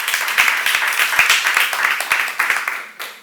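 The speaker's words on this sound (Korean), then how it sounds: "믿는 사람만 박수 쳐보세요." A church congregation claps in a dense burst of applause, many hands overlapping in quick irregular slaps that swell and then taper off over a few seconds.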